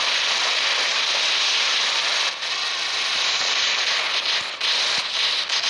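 Sheriff Magnetar weapon firing in the mech game War Robots, a dense, bright crackling hiss sustained throughout with a couple of brief dips, loud and steady with no talk.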